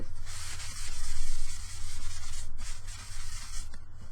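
Paper towel buffing a melted crayon artwork in round, circular strokes, a steady close-up rubbing and scuffing that swells and eases in waves with no talking.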